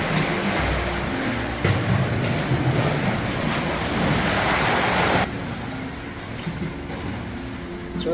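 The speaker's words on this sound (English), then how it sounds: "It's riding in and out on these waves." Ocean waves surging in and out at the Mermaid Caves on Oahu, a broad rushing wash with wind buffeting the microphone, loud at first and then easing to a softer steady surf.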